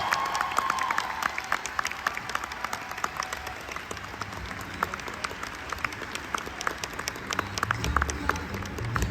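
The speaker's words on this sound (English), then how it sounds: "Give a massive applause to these amazing actors" A large audience at a Fan Expo Dallas 2022 panel applauds continuously, dense clapping filling the whole stretch with a few scattered voices underneath.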